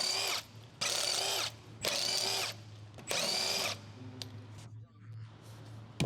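An electric impact wrench with a 19mm long socket removes the rear wheel lug nuts on a 2011 Mazda 3, giving four loud, close bursts of whirring and hammering with short pauses between them.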